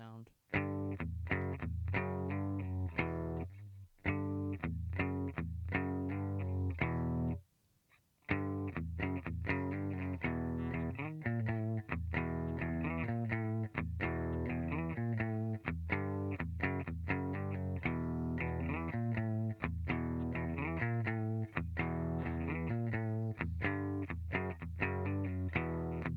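Distorted electric guitar plays an intro and main riff, with ringing open notes and palm-muted chugs in a steady repeating pattern, loud and alone, with a brief gap near the start.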